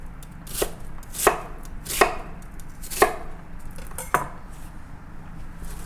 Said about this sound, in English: I just gonna cut onion